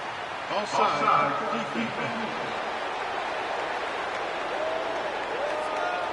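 A steady, broad roar of a stadium crowd in a college football video game fills the background, while a commentator talks over it near the start before the crowd noise carries on alone.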